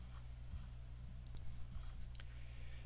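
Computer mouse clicks while working in Microsoft Word, a few faint, sharp taps close by over a low electrical hum.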